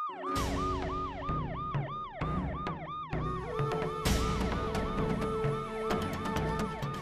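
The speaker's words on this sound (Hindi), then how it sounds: "पुलिस की सायरन की आवाज" A police siren wails, cycling rapidly up and down, then shifts into a faster yelp pattern, loud and close, with some vehicle noise beneath.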